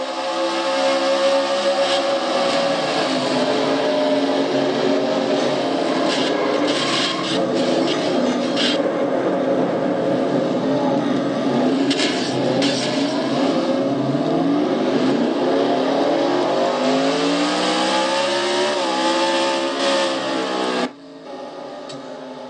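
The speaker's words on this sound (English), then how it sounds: "Poor Ann trying to start her car up, and she keeps getting hit backwards and forwards, east and west" Stock cars racing and colliding in the Castrol GTX Cup Series video game, with loud continuous engine drone and shifting revving tones throughout, rasping scrapes over the top, then an abrupt drop near the end.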